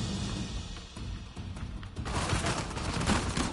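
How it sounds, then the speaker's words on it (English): Sustained turret gunfire in the action game Uncharted 4, a dense rattling barrage over rumbling background noise that grows heavier and more continuous partway through. "it's a turret."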